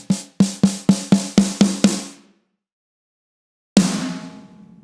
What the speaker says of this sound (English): 3, 4 different samples playing on top of this Black Beauty snare,